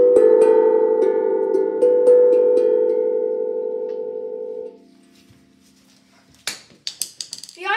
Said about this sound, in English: the iPhone ringtone with one mallet.